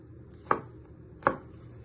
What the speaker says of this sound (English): You're going to press down with your knife. You bring it all back together and you just want to slice it.